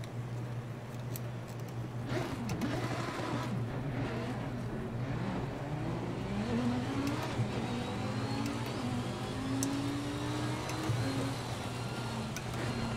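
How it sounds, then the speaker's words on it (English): Wet-weather race car in Assetto Corsa Competizione, with a steady engine drone, rising and falling gear whine tones, and faint brake squeal, all at moderate volume with no talking. "I like the gear whine sound."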